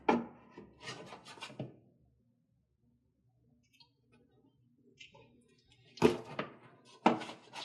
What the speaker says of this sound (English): now we're going to take a set of wire strippers, strip it down just about 1/2 inch